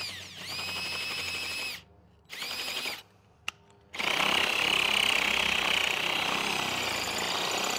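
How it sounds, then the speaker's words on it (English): A power drill bores into a brick wall to run a doorbell camera wire, whining loudly in bursts with short pauses between, then grinding harder and continuously through the masonry, close and with no talking. "drilling in brick, for some people, that can be a little intimidating"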